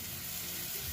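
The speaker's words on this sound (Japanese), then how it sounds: "まずは鶏肉を鍋の中に入れます" A short burst of sizzling as raw chicken hits a hot, unoiled pot for adobo, a bright crackling hiss with no talking.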